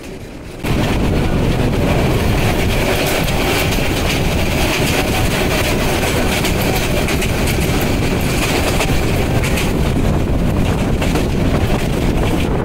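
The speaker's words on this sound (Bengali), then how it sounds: "আন্তনগর Teesta express Bidyaganj railway station through pass করলো।" Intercity Tista Express train rushing through Bidyaganj railway station in the rain, a loud sustained roar of wheels and carriages with wind buffeting the microphone, starting abruptly and rumbling on without pause.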